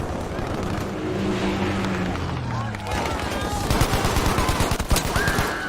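Rapid gunfire from hip-firing a gun in Battlefield V, a dense rattle of shots that builds toward the end, mixed with game noise and someone talking over it.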